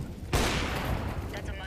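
A single burst of video game gunfire erupts abruptly, loud and close, then decays into a rumbling tail.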